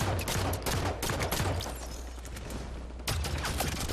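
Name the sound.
pistol gunfire in video game Halo 5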